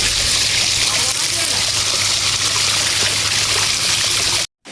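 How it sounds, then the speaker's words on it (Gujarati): Water gushes from a pipe to irrigate coconut trees on a farm, a steady, close rushing and splashing that runs continuously before cutting off abruptly near the end. "આપણે પાણી પાઈ દીધું છે નાળિયેરીમાં."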